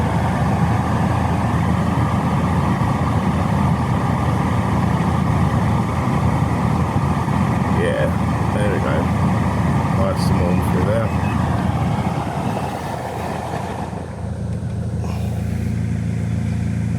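A BMW X3's AC compressor rattling at idle during a coolant change, a loud steady engine drone with a continuous mechanical rattle throughout, dropping slightly near the end.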